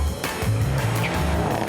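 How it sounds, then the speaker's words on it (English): A sports car, a Mercedes-AMG C63 or Alfa Romeo Giulia Quadrifoglio, spins its wheels at a race start, tyres squealing over a loud, strained engine roar, close and continuous. "Wheel spin, wheel spin."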